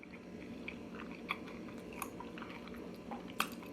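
Close, wet chewing of a ham, bacon, egg and cheese breakfast sandwich, a steady soft mastication with a few crisper bites standing out, heard alone without talk.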